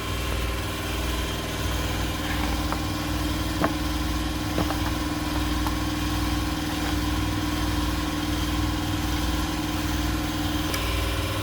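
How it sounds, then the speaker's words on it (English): Air compressor running in a workshop while a simple mono truss is built: a steady, loud, continuous mechanical drone with a low pulsing hum and a few faint knocks, no talk. "Air compressor kicked on."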